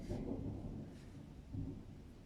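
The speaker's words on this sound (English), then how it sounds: "Oh, that was thunder." Low thunder from a storm rumbles at a distance, swelling at the start and again near the end over a soft, steady background hiss.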